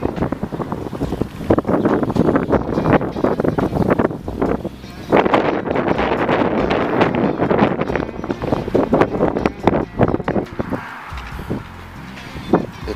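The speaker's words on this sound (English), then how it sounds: "Tad windy." Strong wind blows outdoors on a clear, cold 32°F December afternoon in Freeport, Illinois, roaring steadily and buffeting the microphone in loud gusts for most of the time before easing slightly near the end.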